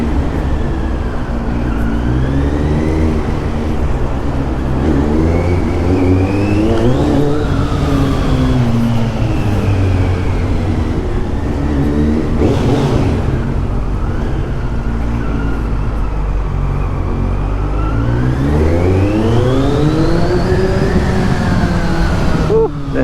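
Kawasaki Z900 motorcycle with a slip-on exhaust revving inside a garage, loud and close, with repeated rising and falling engine pitch sweeps over a steady low rumble, no talking.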